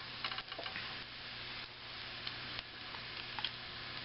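A rolled cowboy burrito with egg toasts in a hot skillet, giving a steady soft sizzle with a few faint ticks and scrapes near the pan.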